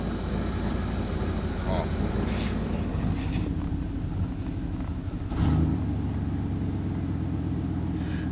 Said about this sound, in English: she wants to die when you try and let it sit at idle for a bit